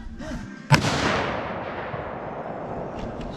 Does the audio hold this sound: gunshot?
yes